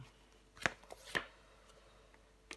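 Tarot cards are handled and laid down on a table, with a few brief, crisp card snaps and slaps standing out against quiet room tone.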